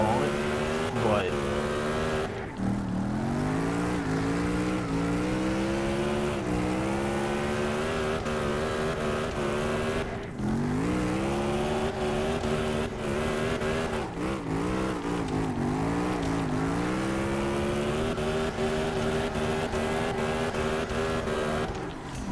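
A car engine in CarX Drift Racing Online, drifting in sixth gear: it holds a loud, sustained high-revving note that repeatedly dips and climbs as the throttle lifts and reapplies through the slides.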